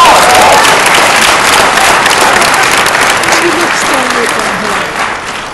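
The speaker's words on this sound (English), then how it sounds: "Get ready to clap." A large audience at a PAX East 2012 Borderlands 2 convention panel breaks into loud, sustained applause that fills the hall and slowly tapers off, with a voice faintly heard beneath it.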